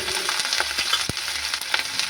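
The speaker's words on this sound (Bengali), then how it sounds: "এবার একটা তেজপাতা দেবো, দিয়ে জিরে দেবো, জিরে দিয়ে নাড়বো" Bay leaf and cumin seeds sizzle in hot oil in a pan, with scraping stir strokes and small pops over a constant frying hiss, close up, for Bengali vegetarian khichuri.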